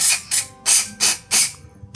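Aerosol cleaner sprayed onto the throttle body and intake manifold of a Yamaha Jupiter Z1 motorcycle, five or six loud close hissing bursts in quick rhythmic succession, each lasting about a quarter second with short gaps between.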